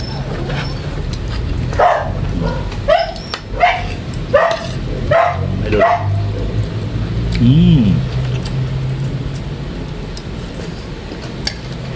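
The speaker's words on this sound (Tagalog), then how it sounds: "aso ko pag may nakakita ng kapwa aso gagalit siya" A dog barks several times in a rough, spaced series nearby, with traffic rumble and a passing vehicle in the background.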